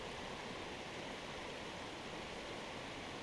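Water overflowing from a beaver dam in a woodland stream, a constant rushing, hissing flow like a small waterfall, steady and fairly close with no talking.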